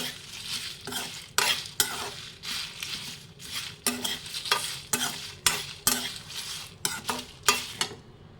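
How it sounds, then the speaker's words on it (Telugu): Dried red chillies are fried and stirred in a pan, and a spatula scrapes in a repeated rhythm of sharp strokes over a soft background sizzle, close and clear with no speech. "ఎండుమిర్చి ఏగే వరకు వేపాలి"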